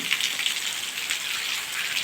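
Steady, dense patter of rain falling through the foliage of a large neem tree, a continuous hiss of drops with no voices.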